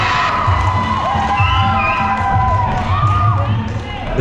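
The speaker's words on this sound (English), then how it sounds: "The crowd enjoyed that." A crowd cheers and whoops loudly throughout a women's MMA bout, a sustained roar with shrill shouts rising and falling over about four seconds.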